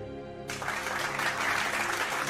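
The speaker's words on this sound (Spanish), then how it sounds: "¡Aplausos!" A burst of crowd applause rises suddenly after a soft musical passage from the closing scene of God of War Ragnarök's Valhalla DLC, a dense, fairly quiet wash of clapping that holds steady to the end.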